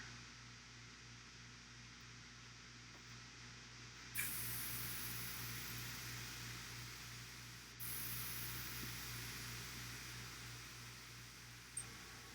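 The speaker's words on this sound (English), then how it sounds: "let me spray a little anthracite gray on this base" Airbrush spraying anthracite gray paint onto a miniature base, a steady close hiss that starts abruptly, breaks briefly and resumes over a low background hum, with no talk.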